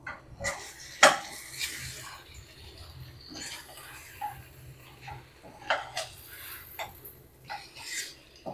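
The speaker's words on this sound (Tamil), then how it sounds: "இப்போ கொத்தமல்லி தழை போட்டு ஒரு கிண்டு கிண்டுனா போதும்" Potato egg masala with coriander leaves being stirred in a pan, with soft scraping and occasional sharp clinks of a spoon against metal, quiet and intermittent with a faint sizzle underneath.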